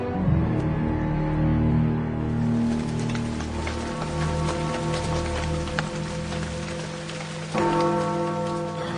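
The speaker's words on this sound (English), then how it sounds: "How long do we have to stand here in this confounded rain?" Steady rain pours through the whole scene of a radio drama set on a nighttime street, with low tonal hums and a brief bell-like ring mixed in.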